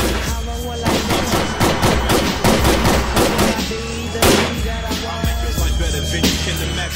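Loud rapid gunfire from Arma 3: dense bursts of close shots in quick succession, with a few heavier bangs standing out over a steady droning background.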